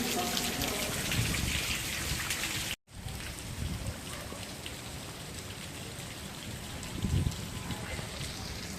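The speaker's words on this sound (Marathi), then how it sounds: "पाऊस पुन्हा कमी झाला आहे आणि आम्ही पुढे निघलोय" Steady rain falls outdoors at the Pandav Leni caves in Nashik, a dense, even hiss that briefly cuts out and then continues at moderate level. Faint speech and a few low thumps sit in the background.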